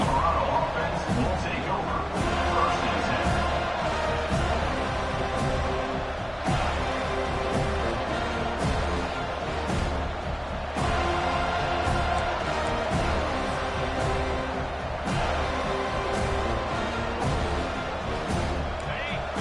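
Stadium crowd in the college football video game NCAA 25 roars steadily throughout, a dense, continuous wall of cheering and babble with no break, heard close and loud.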